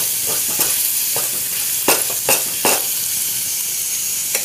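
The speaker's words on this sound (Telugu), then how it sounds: "వేసుకున్న తర్వాత బాగా ఇలా మనం కలుపుకుంటూ ఉండాలి." Onions frying in a pan with a pinch of turmeric, stirred steadily: a continuous close sizzle broken by a few sharp scraping strokes, with no voices.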